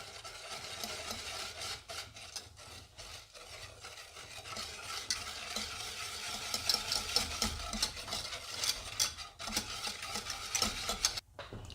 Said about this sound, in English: now I'm going to take my whisk and mix this until everything is well combined